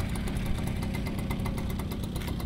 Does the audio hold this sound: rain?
no